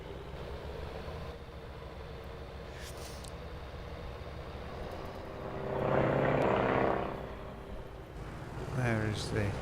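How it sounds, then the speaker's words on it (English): A propeller airplane in Farming Simulator 19 drones overhead, rising to a louder pass around the middle and fading, over steady farm machinery noise with a brief later swell. "There is the aeroplane again."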